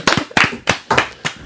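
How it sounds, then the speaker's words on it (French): Five sharp, evenly spaced claps ring out close and loud in a quick rhythm as an audience claps for a girl named Mia at a dance game. "On applaudit bien pour Mia"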